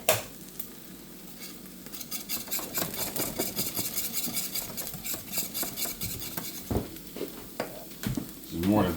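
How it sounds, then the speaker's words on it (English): A thick egg nog mixture is whisked in a pot just taken off the heat, producing a steady, fast scraping and clinking of metal against the pan, close and continuous, with a voice talking over part of it. "So I'm going to take it off and keep whisking it a little bit more."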